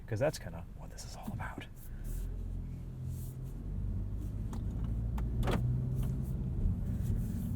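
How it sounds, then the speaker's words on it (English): A 2022 Honda Civic Touring sedan pulls away and drives on the road, its low engine and road rumble rising gradually inside the cabin as someone talks over it at the start. "let's take this new Civic for a drive and see what it's like on the road"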